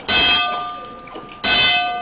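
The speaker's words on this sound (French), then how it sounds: "je vous ai parlé d'une cloche qui servait à sonner pour les repas" An old hand bell once used to call people to meals rings out twice, about a second and a half apart. Each loud, bright strike leaves a ringing tone that slowly fades, close up, with no talking.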